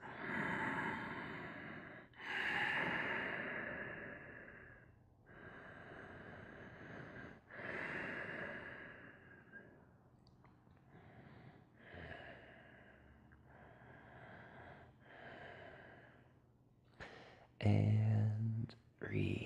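Slow deep breathing in a yoga lizard pose, long audible inhales and exhales repeating every couple of seconds, close and soft, ending with a louder snort-like breath.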